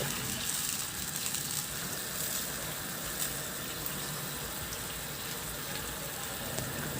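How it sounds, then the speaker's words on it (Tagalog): Pineapple juice and a little water pour into a pan of milkfish being cooked, a steady, even wash of liquid noise that continues without pause for several seconds, close and fairly quiet, with no talking. "ilagay ko na yung juice ng pineapple chunk at maglagay din ako ng kunting tubig, mga 1/2 cup lang"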